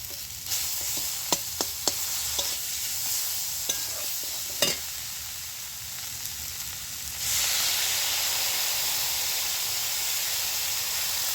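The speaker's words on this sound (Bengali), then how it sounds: "মশলাটা দেখুন ভালো করে কষানো হয়ে গেছে, মশলা থেকে তেল ছেড়ে গেছে একভাবে" Ground cumin and coriander paste sizzling in oil in a pan for a vegetarian ash gourd curry, with sharp spatula scrapes early on, then a louder, steady hiss as it fries.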